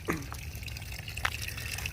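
Water from a garden hose runs through a jet boat's plumbing during a leak test and spills out of the exhaust as a faint, steady trickle with a couple of soft drips.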